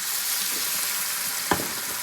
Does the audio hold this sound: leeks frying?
yes